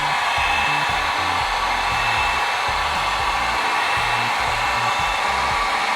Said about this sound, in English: So this mixed with the heat gun.